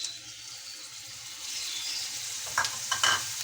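Green chillies frying in a pan, a steady soft sizzle with faint stirring and a couple of brief scraping clicks near the end.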